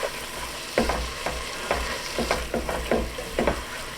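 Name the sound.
stirring soup with salt and pepper in a pot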